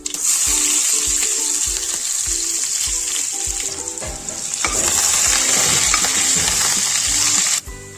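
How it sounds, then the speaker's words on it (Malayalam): Loud, steady sizzle of small shallots frying in hot oil for a pumpkin curry, with occasional scraping stirs and clinks of a utensil against the pan. "ഇതിലേക്ക് നമുക്ക് അരിഞ്ഞു വെച്ചിരിക്കുന്ന ചെറിയ ഉള്ളി ഇടാം"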